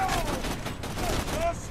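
Gunfire in the video game Borderlands 2 comes as a rapid burst of repeated shots at moderate loudness, with a few short electronic tones mixed in.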